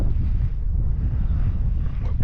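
Wind at a level mountain wild-camping spot, low buffeting rumble against the microphone with gusty fluctuations, steady and close throughout the short stretch.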